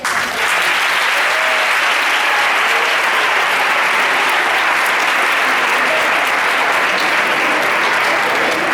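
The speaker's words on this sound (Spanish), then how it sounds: "Un aplauso para ellos que están aquí." An audience at a live stage comedy show bursts into continuous, even applause, a thick, unbroken roar of clapping close around the listener that holds at full strength throughout.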